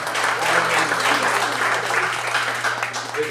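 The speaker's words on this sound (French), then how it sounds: "Alors, on l'applaudit." An audience at a French-language poetry evening breaks into sustained, steady applause that fills the room without pause.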